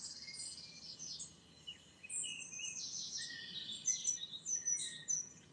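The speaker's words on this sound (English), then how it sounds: "Utilize the resonance of the birds in the background" Birds sing outdoors, a faint scatter of high chirps and warbling phrases that grows busier toward the end, heard at a distance over a quiet background hiss with no voices.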